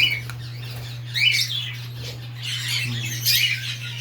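Aqua opaline dilute pet bird squawking and chirping in bursts, close, over a steady low electrical hum.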